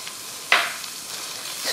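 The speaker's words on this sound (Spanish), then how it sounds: "Vamos primero a cristalizar la cebolla." Finely chopped onion hitting a hot pan to sauté, a sudden burst of sizzling that settles into a steady crackle, close and fairly loud.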